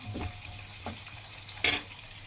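Liver and onion sautéing in a pan, a soft steady sizzle with a few scraping stir clicks and one brief louder burst near the end.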